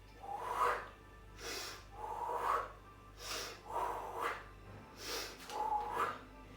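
Forceful breathing during a spine mobility exercise class: five or six strong, breathy exhalations arrive at a steady rhythm about every second and a half, close and clear with no talking.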